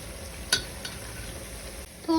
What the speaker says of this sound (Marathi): हिरवा मसाला टाकून झाल्यानंतर आपला मसाला छान परतून घेतलाय आणि त्याला तेल सुटलेलं आहे.